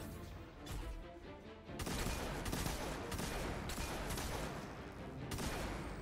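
Thunderlord machine gun in Destiny 2 firing in a loud, sustained burst of rapid gunfire with dense crackling impacts, briefly dipping before a heavier continuous stretch that runs to the end.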